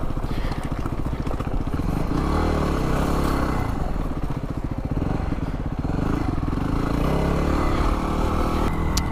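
A dirt bike engine runs close and loud on a muddy hidden trail, holding a steady rumbling drone with slight rises and dips throughout, with no talking.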